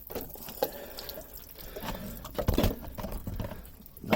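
Pots of compost being watered for carnation cuttings, giving a soft, uneven patter of water splashing and soaking in, with a few louder splashes near the end.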